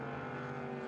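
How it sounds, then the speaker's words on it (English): A race boat powered by an L98 engine of about 525 horsepower roars out on the water during a qualifying event, a loud, steady engine drone held for a brief moment. "that L98 engine's going to push those 525 horsepower to use out there"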